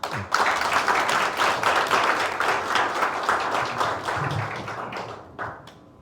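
An audience at a launch event for a local basic-society organization bursts into sustained, dense clapping that holds steady for several seconds and then tapers off.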